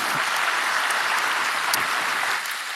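A church congregation at a Sunday worship service in Bethany Nginden church applauds for God, a steady wash of many hands clapping at full volume that eases slightly near the end.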